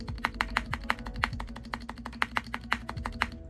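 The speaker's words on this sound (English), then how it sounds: "Ooh, hear that thawk?" Keys on a cheap thrift-store gaming keyboard, modded with lubed switches and foam dampening, typed in a steady run of close, deep thocky clacks, about a dozen strokes evenly spaced.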